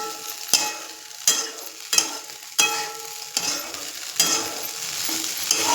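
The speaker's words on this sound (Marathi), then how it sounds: "पंधरा सेकंद आपण झाकून ठेवलेलं हलवूया" Kande pohe being stirred in a pan: about six distinct scraping strokes of a spoon at a steady rhythm over a soft continuous sizzle, close and fairly loud, with no talking.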